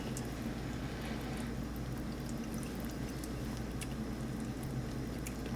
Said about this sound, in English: this is up to a simmer